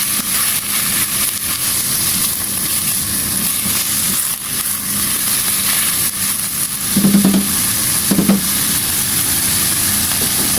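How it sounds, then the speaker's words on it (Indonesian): Meat stir-fries in a pan as the first step of a soup, half-cooked just until fragrant. A steady loud sizzle runs throughout, with a couple of brief scraping stirs near the end. "Saya oseng-oseng dulu kayak gini ya, biar ada aroma daging gorengnya."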